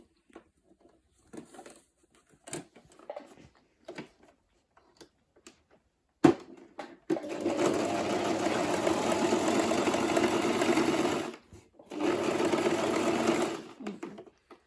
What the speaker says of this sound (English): So I've already cut my lining, so I'm sewing the lining with it.